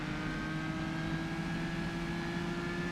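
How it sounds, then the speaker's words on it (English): Race car at the Isle of Man time trial, a steady, fairly close engine drone held at constant pitch with no clear shifts standing out. "can hear the downshifts and all that stuff as he tries to keep the car under control"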